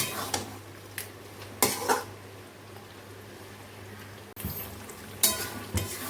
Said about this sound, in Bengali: এটাকে ভালো করে মিক্সড করে নিই ভালো করে এখন কষাবো মাংসটাকে